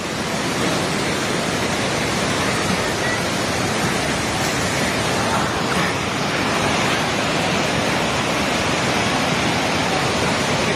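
A flooded river in Nepal rushes past in a loud, unbroken roar of churning water. The turbulent wash stays steady from start to finish, with no voices.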